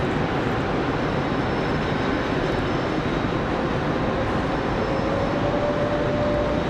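An Aeromexico airliner departing Raleigh Durham International Airport, heard as a loud, steady broadband jet roar that holds unbroken from start to finish, with a faint rising whine layered into it.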